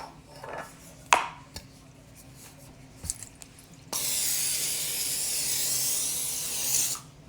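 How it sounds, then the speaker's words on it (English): Olive oil cooking spray hisses from a can in one steady, loud burst of about three seconds, following a few faint kitchen clicks and taps. "Cooking spray or baking spray, it's fine."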